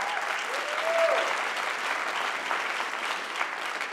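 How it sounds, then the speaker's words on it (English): Conference audience applauding, a steady dense wash of clapping from a large crowd that holds at an even level throughout, with no clear pauses. "everyone give yourself a round of applause"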